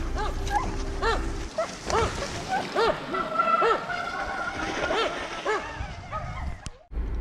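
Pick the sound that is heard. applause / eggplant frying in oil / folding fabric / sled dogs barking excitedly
sled dogs barking excitedly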